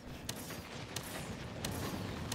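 Cannon fire in the monster-hunting game Monster Hunter World: a dense, continuous barrage of booming blasts with a few sharper reports standing out, loud and without speech.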